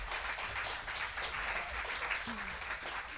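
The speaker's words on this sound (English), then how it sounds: "Should we give the candidates a big warm round of applause?" Steady applause from a crowd at a student election candidate question time, a dense even patter of many hands clapping that holds for the whole stretch.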